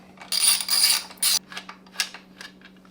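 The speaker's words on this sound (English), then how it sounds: "let's start removing the stock rear sets so we can get ready to put on the Vortex sets. So we're using a 6mm hex socket" A ratchet with a 6mm hex socket loosens rearset bolts on a Yamaha R1 motorcycle, giving several loud, close bursts of rapid clicking followed by lighter, scattered ticks.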